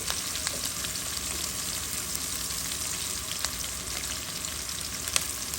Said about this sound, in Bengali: কাঁচামরিচ দিয়ে দিলাম